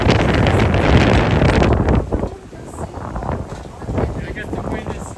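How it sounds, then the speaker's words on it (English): On a boat cruise at Kingston, Ontario, strong wind buffets the microphone in a loud rush that eases after a couple of seconds, while a person talks underneath. "I guess the wind is blowing all over the place."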